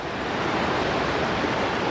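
A large rushing mountain river in the Wind River Range makes a loud, steady, broadband roar with no break and no voices.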